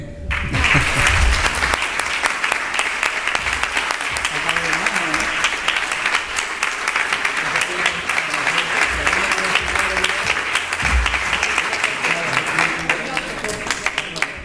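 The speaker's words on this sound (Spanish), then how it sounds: "un aplauso fuerte se merece" An audience at a presentation for a road-victims march in the Axarquía region gives loud, sustained applause, a dense continuous wash of many hands clapping close by throughout.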